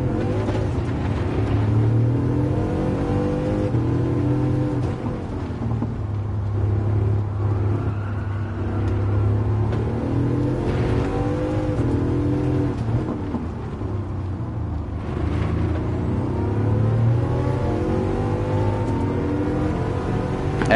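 Bugatti Chiron '16 hypercar engine racing at Monza in Gran Turismo 7, a loud continuous drone that rises and falls with shifts and throttle changes, heard alone without talk.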